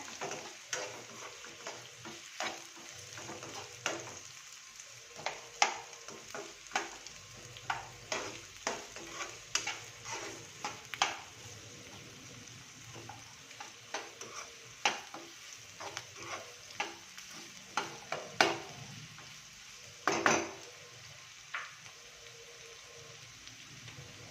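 Steady stir-frying of beans and carrots in a pan for vegetable fried rice: a soft, continuous sizzle under frequent sharp spatula scrapes and taps in an irregular rhythm, close by, with no talking.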